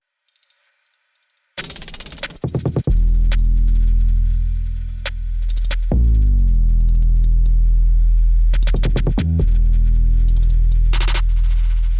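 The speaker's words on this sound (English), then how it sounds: "So here are just all the drums by themselves." Ambient nature-style beat drums processed with a Valhalla frequency echo and a phaser, playing alone: sharp rattling hits over a sustained deep low end, with short bursts of noisy high texture and no voices.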